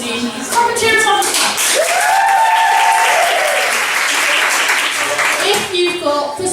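An audience at a student drama event claps and cheers in a dense, loud burst that swells and then fades, with whoops rising over the applause.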